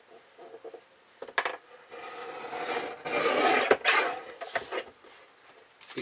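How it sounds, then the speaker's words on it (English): A comic book page is trimmed with scraping, rasping cuts in short bursts, plus one longer continuous rub in the middle and some light handling knocks between strokes. "I'm going to go ahead and trim it down."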